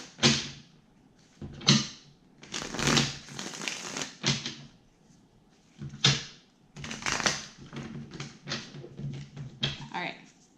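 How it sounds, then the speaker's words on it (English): Tarot cards from a Pagan Cats deck being shuffled by hand, a run of crisp riffling and flicking bursts in irregular bunches, close and moderately loud, with a few short pauses between passes. "I'm going to shuffle it 2 more times."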